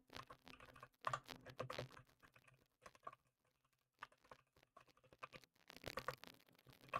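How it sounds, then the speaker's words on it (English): Someone types values into a computer keyboard, giving quick irregular bursts of soft key clicks with short pauses between runs, close and quiet, with no talking. "So we're just going to slog through typing these four values"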